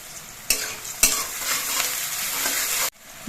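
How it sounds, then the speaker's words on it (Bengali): Onions sizzling and frying in a pan with a steady crackling hiss, broken by a couple of stirring scrapes, then cutting off abruptly near the end. "পেঁয়াজগুলো খুব তাড়াতাড়ি নরম হয়ে ভাজা হয়ে যাবে"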